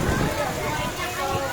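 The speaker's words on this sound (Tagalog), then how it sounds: "Lumakas na ang ulan" Heavy rain pours down in a steady, dense hiss that fills the whole stretch, with faint murmuring voices blended beneath it.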